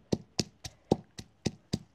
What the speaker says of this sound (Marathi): त्याच खलबत्त्यात लगेच आपण हिरवी मिरची पण कुटून घेऊ.